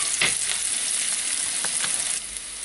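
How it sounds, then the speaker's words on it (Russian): Onions frying in oil in a pan, with a steady close sizzle that runs throughout and a few brief stirring scrapes. No voices. "В масле обжариваем лук."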